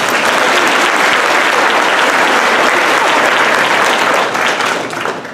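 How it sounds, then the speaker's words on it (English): Steady, loud applause from a football banquet audience honoring youth coaches, a dense wash of many hands clapping that holds evenly before thinning slightly near the end. "So if you give them a round of applause, please"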